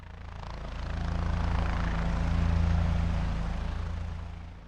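A helicopter settles onto a moving ship, the low throbbing rotor beat and engine roar rising to a peak midway and then easing slightly, with no other sounds.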